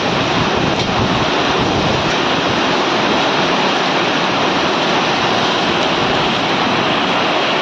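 Strong storm wind roaring continuously with heavy rain, a dense, steady broadband rush that stays loud and close for the whole stretch with no voices.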